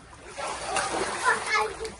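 Splashing in a swimming pool filled with water drawn from a river, steady sloshing and splatter with children's voices and talk over it.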